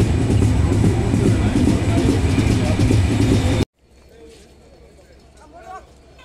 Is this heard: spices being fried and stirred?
no